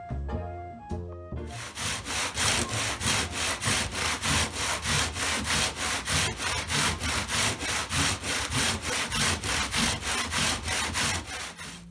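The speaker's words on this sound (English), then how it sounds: "I'm going to finish that up by sanding the radius into the sides" Rhythmic back-and-forth abrasive strokes sanding a radius into wooden travel-guitar sides, loud and close, repeating steadily in even pulses after a brief quieter start.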